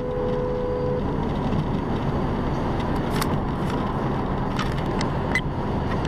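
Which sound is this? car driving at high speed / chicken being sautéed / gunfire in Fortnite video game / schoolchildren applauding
car driving at high speed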